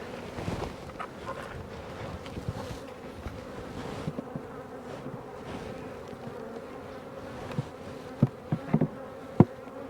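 Honeybees drone around a backyard hive at feeding time, a close, continuous buzzing with light wind rumble and a few knocks toward the end.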